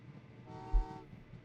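A train in the video game Train Valley 2 sounds one short, clear horn toot over a low rumbling game background, alone without talk.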